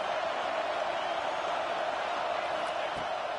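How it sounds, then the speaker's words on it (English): A stadium crowd at a football game roars in a continuous, thick wall of cheering and whooping, heard from within the stands with no pauses. "Listen to this crowd just shaking the girders of this place"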